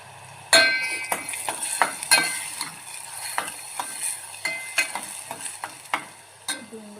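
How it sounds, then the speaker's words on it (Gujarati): Onions and tomatoes frying in a pan for chutney, a soft sizzle broken by a series of spoon scrapes and clinks against the pan at an uneven pace, close up with no talking. "અંદર એડ કરીશું ડુંગળી અને ટામેટાં બંને એડ કરી દઈશું"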